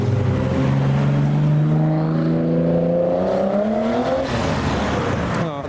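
A Nissan Skyline departing a car show revs loudly, its engine note climbing steadily through the gears, close and sustained, with a rough burst near the end.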